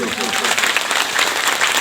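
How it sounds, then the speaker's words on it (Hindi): Applause from an audience at a stage gathering with spiritual songs, a steady dense wash of clapping filling the whole moment at fairly strong level, with some voice or crowd noise mixed in. "ताली बजा दीजिए एक बार जोर से"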